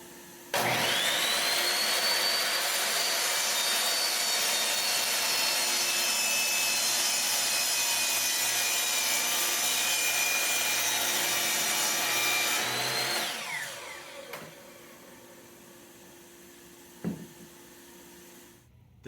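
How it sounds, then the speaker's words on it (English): Miter saw squaring off the ends of a wooden piece, a loud whining cut that runs steadily for about twelve seconds, then the blade spins down and a couple of light knocks follow. "We'll square those off on my miter saw"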